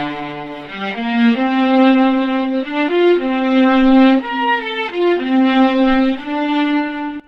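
A slow, legato melody plays on an ensemble strings instrument patch, sustained bowed-style notes gliding from pitch to pitch at steady, fairly loud volume with no voices.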